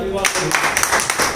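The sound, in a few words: audience applause at a mushaira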